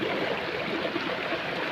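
A creek running beside a small farm plot, a steady close rushing and burbling of flowing water, even and unbroken throughout with no voices.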